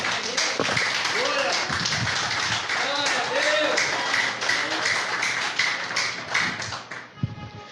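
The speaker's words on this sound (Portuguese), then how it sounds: "Pode aplaudir que ele é digno." A church audience claps in rapid, crisp bursts while voices call out over it, the clapping thinning toward the end.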